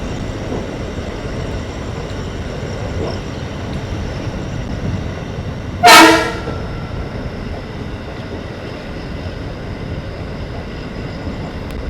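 A train runs at night past Agarpara station with a continuous rolling rumble, and one sharp, brief loud burst cuts through midway before the steady noise resumes.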